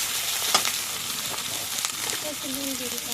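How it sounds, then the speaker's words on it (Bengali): Chopped onions sizzle in a pan with soft crackling and occasional stirring scrapes, a faint voice-like tone appearing near the end. "আস্তে আস্তে সুন্দর করে পেঁয়াজগুলো ভাজা হচ্ছে"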